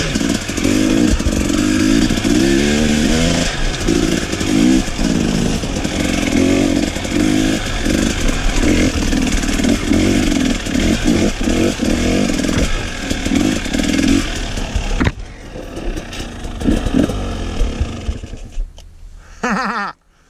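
A motorcycle engine revs hard on the throttle during a track riding session, loud and continuous for about fifteen seconds, then cuts out to a quieter idle and brief bursts.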